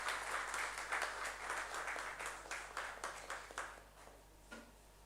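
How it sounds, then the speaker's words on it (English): Applause from an audience at an online memorial lecture, a fairly faint patter of clapping that thins out and fades over a few seconds against a steady background hum. "Let's celebrate her presence with a resounding applause."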